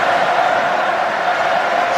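Rugby crowd at an England versus France international, a dense, steady roar of supporters cheering and shouting to lift their team, loud and continuous throughout without a break.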